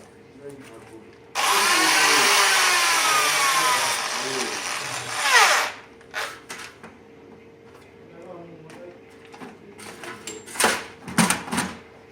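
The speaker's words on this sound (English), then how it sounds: "I put it in a drill and I spin it on a piece of sandpaper" A power drill spins a metal shaft against sandpaper, whirring loudly for about four seconds and winding down, followed by scattered clicks and handling noises.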